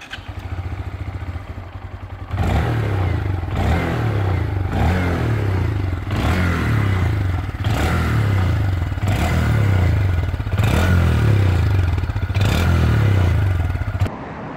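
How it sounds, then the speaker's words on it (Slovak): A 2021 Honda MSX125 Grom minibike rides past close by, its small single-cylinder engine droning steadily with rhythmic revving pulses and rattly mechanical clatter, loud and continuous with no talk. "vítajte pri minitestiku minimotorky Honda MSX 125 Grom"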